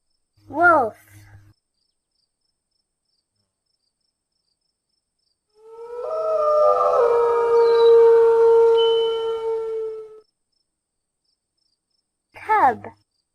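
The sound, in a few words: wolf howling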